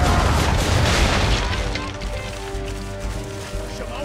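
Ship cannons firing in Assassin's Creed 3 during a naval battle, a loud deep boom that rolls out and decays over several seconds, with voices heard in the scene.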